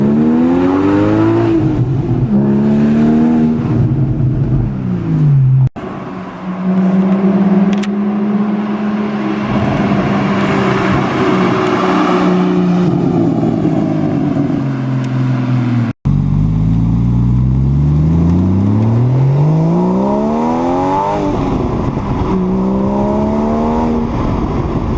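A Porsche Boxster S accelerates hard through several gears, its engine rising in pitch, dropping briefly at each shift and climbing again, loud and close from inside the car.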